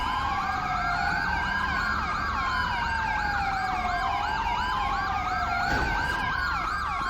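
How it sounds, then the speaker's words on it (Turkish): Ambulance siren from the GTA 5 video game, a steady wailing tone sweeping slowly up and down in repeated cycles, loud and close, with no voices. "Ambulans da geldi."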